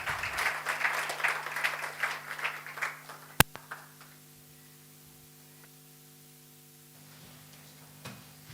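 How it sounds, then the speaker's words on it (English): Seminar audience clapping briefly as presenters approach the podium, soft scattered applause that dies out within a few seconds, followed by a sharp knock and a steady background hum. "Round of applause as they approach the podium"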